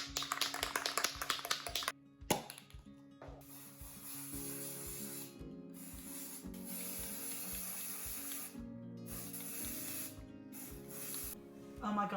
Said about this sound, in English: So I'm going to spray it indoors.